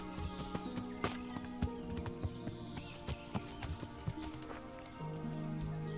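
Horse hooves clip-clopping at a steady walking pace in the video game Kingdom Come: Deliverance, with tonal game music and ambient sounds underneath.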